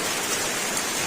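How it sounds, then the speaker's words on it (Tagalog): Steady heavy rain pours down in a dense, loud hiss with no voices, a constant wash of drops hitting surfaces close by. "Ang lakas ng ulan."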